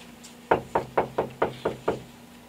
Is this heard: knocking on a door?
yes